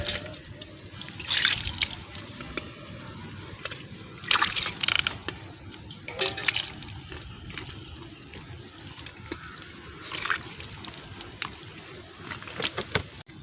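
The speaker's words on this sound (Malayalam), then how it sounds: "അപ്പം നമുക്ക് നല്ല വെള്ളം കൊണ്ട് ഇനി കാലൊന്ന്" Water is poured over feet during an at-home pedicure, several separate splashing, trickling pours at close range with quieter gaps between them.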